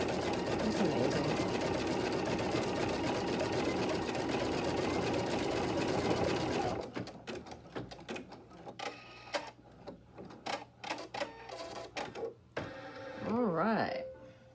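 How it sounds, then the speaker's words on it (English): Sewing machine stitching orange peel quilt blocks, a steady rapid whirring drone for several seconds that then stops, followed by scattered small clicks and a voice speaking near the end. "Almost mesmerizing to watch this machine stitch"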